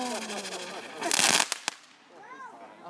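Fireworks bursting in the dark on the 4th of July, a dense cluster of loud crackling, popping blasts followed by a couple of sharp separate bangs, with people talking nearby before and after.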